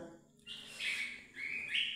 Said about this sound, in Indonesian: Suara burung ya teman-teman tuh,